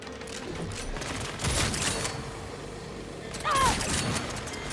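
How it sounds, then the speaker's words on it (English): Gunfire in Saints Row: scattered shots crack out over continuous street and engine noise, with two louder bursts, and a voice speaks in between. "Who the fuck is shooting?"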